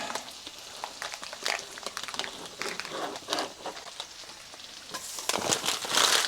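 Eggs frying in butter in a pan over moderate heat, a steady crackling sizzle with scattered pops that grows busier and louder toward the end.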